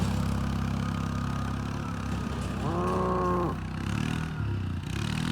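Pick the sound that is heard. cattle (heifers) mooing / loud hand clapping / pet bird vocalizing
cattle (heifers) mooing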